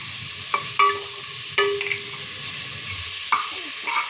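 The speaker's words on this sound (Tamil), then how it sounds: "வெங்காயம் நல்லா ப்ரௌன் கலரில் வரணும்" Sliced onions frying in oil with rock salt for chicken 65 biryani, a steady close sizzle with a few sharp scrapes of a stirring spoon against the pan, no talking.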